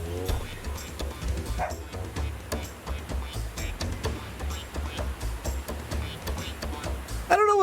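Dog barking in the video game The Tenants: short yips and barks recur across the scene over a dense, busy bed of game sound, with a brighter cluster of barks near the end.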